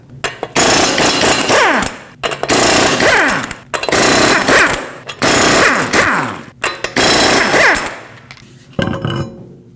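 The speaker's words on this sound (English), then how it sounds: "Now you can use a 21mm socket, remove all 5 lug nuts, and then pull the wheel off." An impact tool drives a 21mm socket to remove the lug nuts on a 2020-2027 Toyota Corolla wheel. It makes repeated loud, rattling bursts of a second or so each, separated by brief pauses, with a softer final burst.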